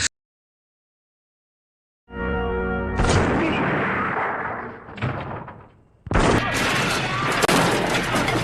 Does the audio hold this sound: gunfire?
yes